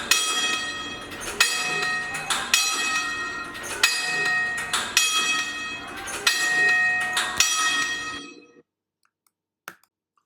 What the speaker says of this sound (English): Kids especially love the signal corner where they can push buttons to operate lights and bells.